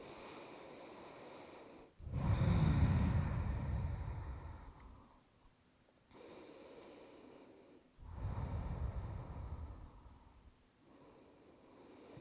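Slow, deep breaths during a yoga stretch while lying on the mat, with two long, strong exhales about six seconds apart, each followed by a quieter inhale. Close and breathy, with no talking.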